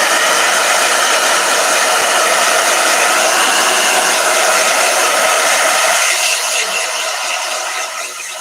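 A blow dryer runs as a loud, steady whoosh while drying a watercolor painting in a sketchbook, then trails off slightly near the end as it moves away or powers down.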